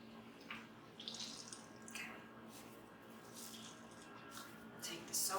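A wool felt ball rinsed under cold running tap water, with faint trickling, drips and soft squishing as it is handled, quiet and close, and brighter splashes near the end.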